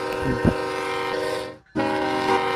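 Diesel freight train horn in a Roblox BNSF rail game, sounding as a loud sustained multi-tone chord with a brief cut near the end before it resumes, no voices.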